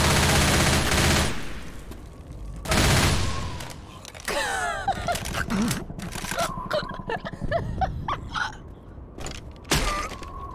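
Pistol gunfire in the co-op zombie shooter Left 4 Dead 2: rapid bursts of loud close shots in several clusters, mixed with sharp clatter and scattered game noise.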